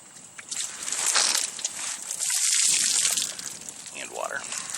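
Water gushes and sloshes out of an opened RV water filter housing still under slight pressure, splashing loudly in uneven surges, with brief dips between pours.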